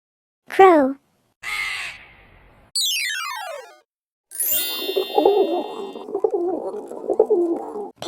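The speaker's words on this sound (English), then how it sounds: "Crow," A crow caws in a rough, raspy run of calls near the end, after a short spoken word and a quick sweeping chime effect, set among simple animal sounds for young children.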